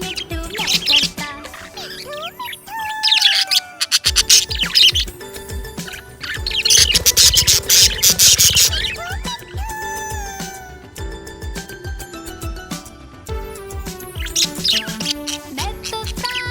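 A happy pet budgie chirps in rapid, bright bursts of tweets and whistles, loud and close, with short pauses between flurries and no talk.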